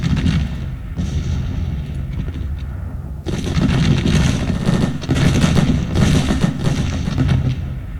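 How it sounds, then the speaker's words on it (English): Artillery fire in the Civil War strategy game Grand Tactician, with repeated booming cannon blasts rolling over a dense, continuous battle rumble, heavier in the second half, and no voices. "And there goes the artillery."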